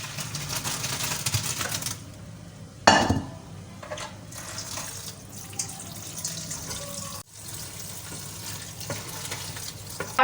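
Chicken steaming under a lid in a home kitchen pan, with a steady hiss and sizzle of water cooking off, broken by a clatter of the cover and a few clicks, no speech.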